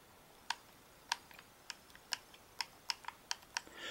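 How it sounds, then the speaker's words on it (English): The D-pad of an Xbox One controller is pressed repeatedly, giving a series of crisp, sharp clicks at a roughly even pace, close and distinct in a quiet room. "this can only be pressed up and down, left and right, but you'll notice that it has a click to it"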